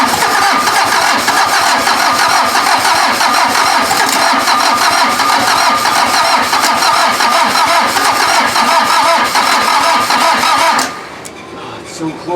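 A VW diesel engine fitted in an offroad Mazda cranks and fires up after glow plug preheating, a loud, close, rough mechanical roar that runs steadily for about eleven seconds before cutting off abruptly, with voices over it.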